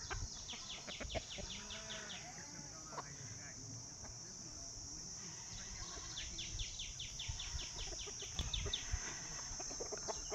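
Desi village chickens cluck faintly in an outdoor farmyard, mixed with dense insect and cricket chirping and other birdsong, with a voice speaking at times.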